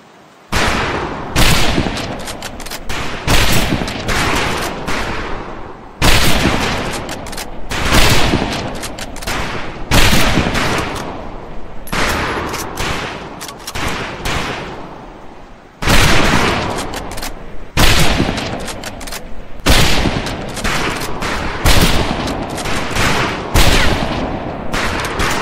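Rifle gunfire at a shooting range in Medal of Honor: Pacific Assault, loud repeated volleys of overlapping shots with brief pauses between bursts.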